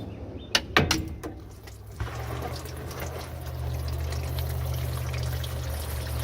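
Fluid pouring and trickling out of a 1971 Dodge D100 pickup, a few clanks at the start, then a steady low draining flow running on without talk.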